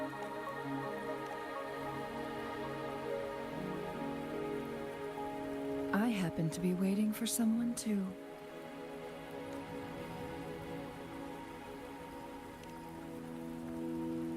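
Steady rain falls in the video game Wuthering Waves, a continuous even hiss that runs throughout while a voice speaks briefly in the middle.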